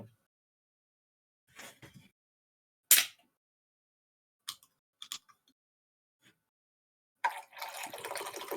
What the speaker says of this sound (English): I'm just gonna preemptively pour a little mixer.